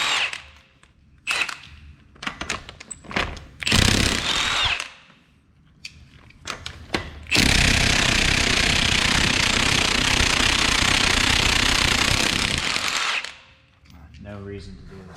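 An impact tool with a 19mm socket removes the front wheel lug nuts on a Honda Civic, giving short buzzing bursts and then one long sustained rattle, with tool clatter and brief pauses between.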